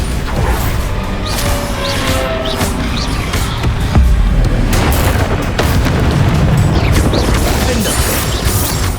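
Bombarda explosion spell in Hogwarts Legacy on PS5, a heavy booming blast with crashing debris and rumbling mechanical clatter rolling on for several seconds, loud and close.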